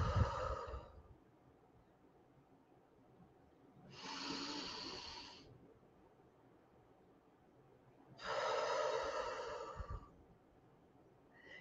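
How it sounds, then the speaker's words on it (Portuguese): Slow guided breathing paced in four counts: a breath, a silent hold, then two long audible breaths spaced a few seconds apart, close and breathy, with no speech. "Inspira, segura, solta, segura, respiração em 4 tempos."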